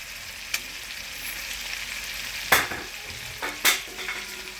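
Chicken pan-frying in a restaurant kitchen: a steady close sizzle and crackle of hot fat runs throughout, broken by a few sharp spattering pops and scraping stirs, with no voices.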